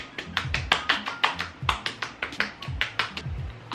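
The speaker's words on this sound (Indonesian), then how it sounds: "terus aku kayak tepuk-tepuk aja" Fingertips repeatedly pat Pond's Instant Hydration skincare onto skin, making a quick, steady series of soft, close, wet slaps with no talking.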